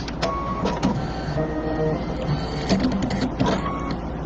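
An embroidery sewing machine stitches a lamppost quilt block design, producing a steady close mechanical whir and rapid needle chatter with a constant motor hum throughout.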